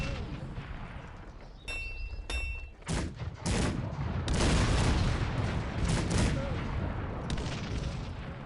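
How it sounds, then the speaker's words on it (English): Cannons firing in the real-time strategy game Cossacks 3 during a 2v2 multiplayer battle: a dense, continuous barrage of booming shots and overlapping blasts, loud and sustained, with a few brief tonal game effects early on. "My cannons were firing at his cannons"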